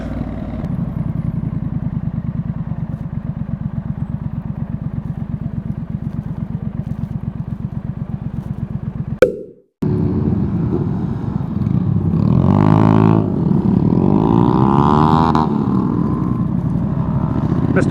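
A Honda Grom idles nearby at a busy bike meet with a fast, even putter. The engine cuts out abruptly, then resumes with a louder, rising rev and a brief warbling blip.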